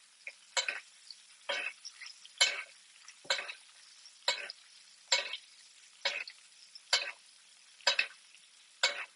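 Meat basted in its own rendered fat, a close series of about ten short spitting sizzle bursts at a regular pace, quiet in between.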